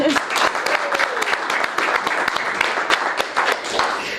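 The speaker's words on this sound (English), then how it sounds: "Let's get a round of applause for everyone who has helped make this possible" Studio audience applause on a chamber TV show, a dense, steady round of clapping from a small live crowd that carries evenly through the whole stretch.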